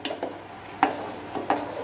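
A spoon stirring a custard powder mixture in a pan for caramel pudding gives a few light clinks and scrapes against the metal at irregular intervals, quiet and close, with no talk.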